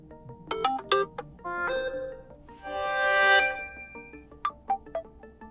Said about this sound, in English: now you can change the notification sound here